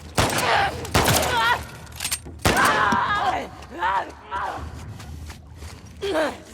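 Gunfire in the video game The Last of Us Part II, several sharp loud shots spread across the stretch amid in-game shouts and groans, with voices talking between the bursts.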